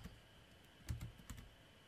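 Keys clatter on a computer keyboard in a few quick bursts of clicks, close and fairly quiet, with near silence between them.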